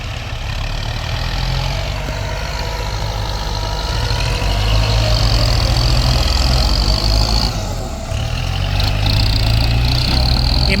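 Two Kubota tractors, an M8540 and an MU4902, run their diesel engines close by, making a loud, continuous low chugging throb with a brief dip in the middle before resuming.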